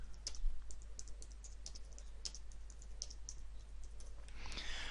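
Irregular, fairly quick keystrokes on a computer keyboard as a short screen tip is typed for a link in presentation software, soft close clicks over a steady low hum, with no talking.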